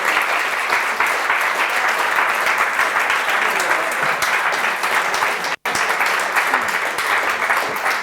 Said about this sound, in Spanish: El aplauso es para vosotros